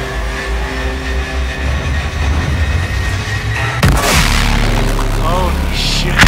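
Missiles launch from a warship in Call of Duty Infinite Warfare, a loud low rumbling rush that swells into a heavy blast and a roaring wash of noise at the midpoint, layered with game voices and music.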